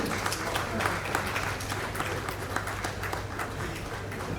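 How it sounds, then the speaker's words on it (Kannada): An audience at a Kannada stage function applauds in a steady, dense wash of many hands, holding at an even level throughout with no speech over it. "ನಿಮ್ಮೆಲ್ಲರ ಪರವಾಗಿ, ವೇದಿಕೆಯ ಪರವಾಗಿ ಅವರಿಗೆ ನಮ್ಮ ಹೃದಯಪೂರ್ವಕ ಧನ್ಯವಾದಗಳನ್ನು ಚಪ್ಪಾಳೆಯೊಂದಿಗೆ ಅರ್ಪಿಸೋಣ."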